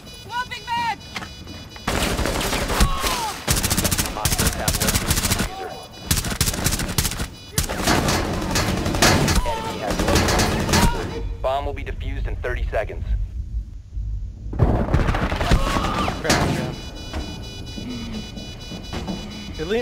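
Gunfire in short bursts during a Rainbow Six Siege bomb-defusal round, with loud repeated volleys broken by brief lulls and one near-silent gap, and voices talking over the shooting.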